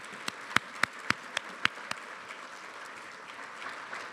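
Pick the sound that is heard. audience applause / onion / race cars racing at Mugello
audience applause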